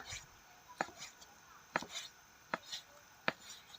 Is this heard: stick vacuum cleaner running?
no